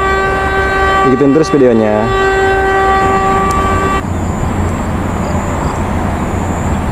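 An Indonesian train horn sounds loudly for about a second with wavering tones, over steady rumbling railway noise as the Bandung Raya Ekonomi train passes; a voice speaks briefly partway through.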